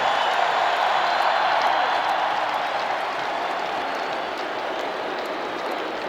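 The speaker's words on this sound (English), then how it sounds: "This crowd is like the Atlanta crowd. They never stop, particularly when their team is doing something." Continuous roar of a large baseball crowd cheering at a 1991 World Series Game 1 in Minnesota's home ballpark, Twins hosting the Braves, a steady broad wash of noise that stays loud throughout with no break.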